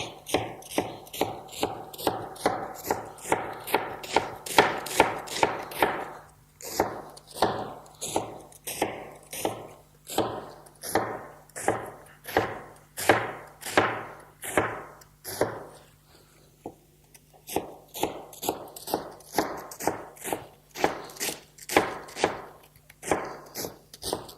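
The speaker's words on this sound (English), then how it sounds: "And then just go for a nice fine shred." A knife finely shreds large vegetable hearts on a board, giving fast, steady chopping strokes in a continuous rhythm, close and fairly loud.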